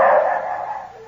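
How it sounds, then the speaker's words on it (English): Hounds barking as a radio drama sound effect, a short loud burst of baying that fades over about a second, close and alone with no talk. "The dogs have got the shadow."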